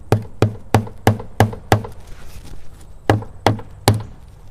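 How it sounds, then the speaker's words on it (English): Nails are hammered into copper roof shingles in a steady run of sharp, close blows, about six in quick succession, a short pause, then three more. "So we just start nailing them in."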